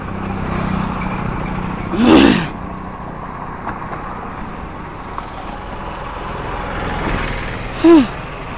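Motor vehicles pass by on a road during a long-distance bicycle ride in South India, with steady roadway rumble and wind and two louder passing swells around the two- and eight-second marks, the second ending in a short horn-like tone.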